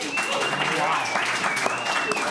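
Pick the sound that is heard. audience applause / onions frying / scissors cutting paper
audience applause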